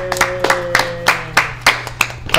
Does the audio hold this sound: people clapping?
yes